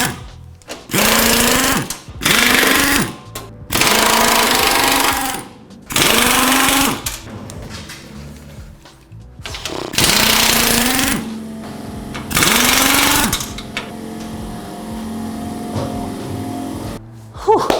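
A power tool runs in repeated loud bursts of one to two seconds with short pauses between, backing bolts out of the shipping crate of a 2019 Honda CB500F motorcycle.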